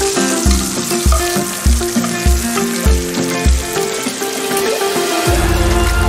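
Whole spices sizzle in hot oil for a veg biryani, a loud, close, steady frying crackle over a repeating pulsing backing beat, without speech.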